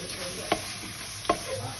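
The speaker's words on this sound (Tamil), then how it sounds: "கரெக்டாக அது எண்ணெய் வந்து தயிர் இதுலேருந்து தனியாக பிரிஞ்சு வர வரைக்கும் கிண்டணும்" A spoon stirs a masala of yogurt, chili powder and turmeric frying in oil, a steady sizzle with two distinct knocks of the spoon against the pan, close and without talking.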